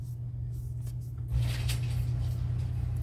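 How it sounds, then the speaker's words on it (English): A steady low mechanical hum with a rising whir and rattle partway through, like a motorized garage door starting to open nearby. "He's opening up the garage door if you're wondering what that noise is."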